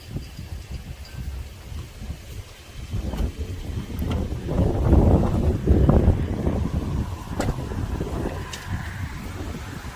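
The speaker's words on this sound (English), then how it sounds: "It's very windy out here." Gusty outdoor wind outside a jail pounds the microphone with low, rumbling blasts that build toward the middle and ease off, a steady roar underneath with no clear speech.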